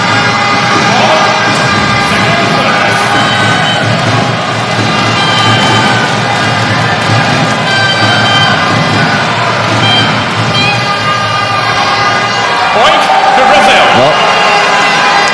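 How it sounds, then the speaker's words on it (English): Crowd noise at a Teqball World Cup match swells in a steady, loud roar of cheering and chanting throughout, with a commentator talking over it. "this noise from the crowd in here may well just help them on the way"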